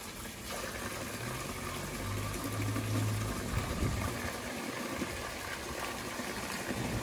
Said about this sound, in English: And here we have natural spring water.